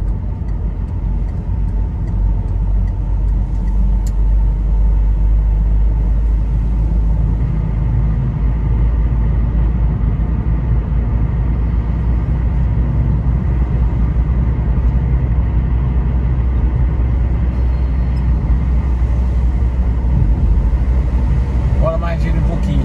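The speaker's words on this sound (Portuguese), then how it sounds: "Tão forte, pessoal, chega e balança o carro." Strong wind of about 32 km/h buffets a car in Portugal, making a continuous low, heavy rumble that stays loud and close for the whole stretch.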